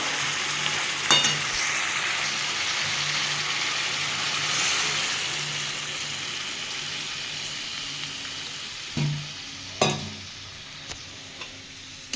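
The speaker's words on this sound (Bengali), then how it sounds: "আমার এটা কষা হয়ে গেছে তেল বেরিয়ে গেছে আমি এবার জল দিয়ে দেবো" Sautéed chicken with winter vegetables and new potatoes sizzles in a pan as water is added. A continuous hiss runs throughout, broken by a few sharp scraping clicks of stirring and a brief louder surge near the end.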